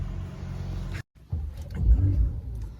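Porsche 911 engine at a showroom pickup, a low rumbling idle that cuts out briefly then swells into a deeper rising rev, close and fairly loud.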